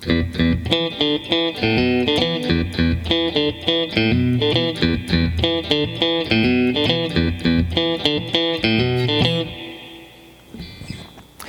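An electric guitar plays a funk intro riff, a tight, repeating pattern of sharp picked notes and octaves in a steady groove, loud and alone, stopping near the end with a faint trailing note.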